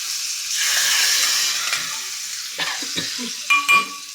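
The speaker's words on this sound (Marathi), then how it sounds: "ही चुरचुरीत फोडणी या वरणावरती आपण घालून दिली" Hot crackly spiced tempering poured onto cooked dal hisses and sizzles loudly, easing into softer bubbling with a few clinks of a metal ladle and pot near the end.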